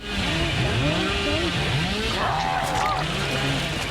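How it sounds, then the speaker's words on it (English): A killer's chainsaw revving in the horror game Dead by Daylight, a sustained loud whining buzz with wavering pitch sweeps that runs the whole time under a dense game soundscape. "the real joy comes from his secondary weapon, the chainsaw"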